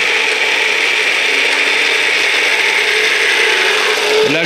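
Mechanical variator of a wood lathe running as its spring-loaded pulleys are squeezed together, a loud continuous whirring and rattling drone, steady throughout with a low shift near the end, no voices.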